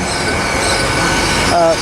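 Great Western Railway Swansea to London Paddington service pulling into Bristol Parkway, a steady loud rumble of rolling stock with a brief high wheel squeal near the end.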